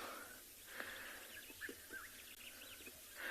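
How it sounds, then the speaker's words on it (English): Several birds chirp and call faintly at a distance at dawn on an African safari, over a steady hiss of insects, with short scattered notes. "you can hear all the birds starting to wake up around us and start to call"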